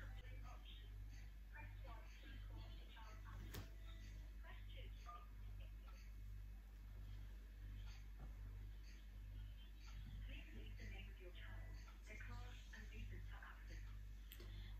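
Telephone keypad dialing, a series of short electronic tones pressed one after another under a steady low hum, faint and close, with quiet indoor background.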